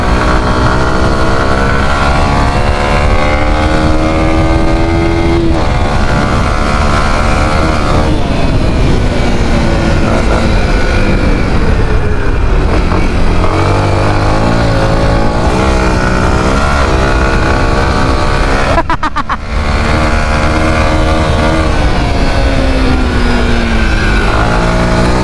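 A loud boat motor drones continuously up close on a river mouth, its pitch rising and falling as it revs, with a brief dip in the roar partway through.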